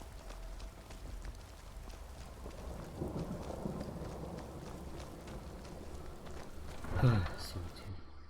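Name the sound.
thunder and rain in the video game Skyrim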